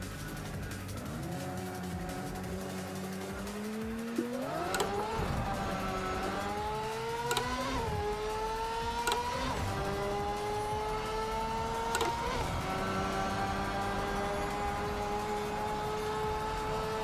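Ferrari racing around Monza in Project CARS 3, its engine revving up through the gears with clear rising tones and brief dips at each shift, a loud continuous drive with no talking.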